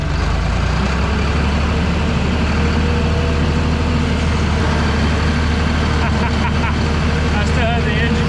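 A New Holland LX865 skid steer engine runs loud and close, a steady low rumble throughout with a person talking over it.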